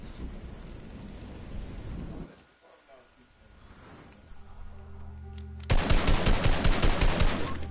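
Rapid automatic gunfire in a video game, a tight string of loud shots near the end, following a stretch of low rumbling game ambience.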